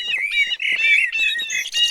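Small birds chirp and tweet in quick bright bursts, several high trilling calls overlapping close up and loud, continuous across a couple of seconds with only tiny gaps between phrases.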